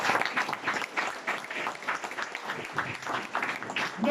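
A church congregation applauds and cheers for the Lord, a dense, steady wash of clapping from a crowd that rises and falls slightly but continues throughout.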